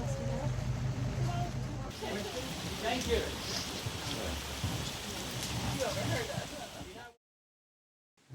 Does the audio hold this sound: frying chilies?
no